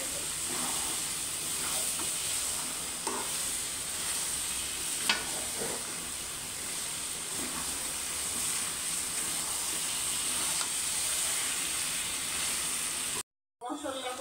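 Pre-fried chicken pieces sizzle and hiss steadily in a pan of spice masala that has been cooked down, with occasional stirring scrapes and a brief pause near the end.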